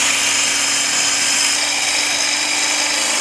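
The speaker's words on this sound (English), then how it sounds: "you can use this frother to blend in all types of liquids fairly efficiently and quickly." Kelitos blender frother running on its turbo setting, a loud, steady high-pitched motor whine with constant buzzing, close up and unbroken for the whole stretch.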